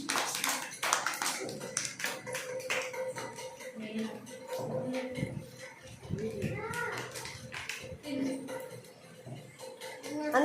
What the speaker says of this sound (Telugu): అందరూ గట్టిగా క్లాప్స్ కొట్టుకోండి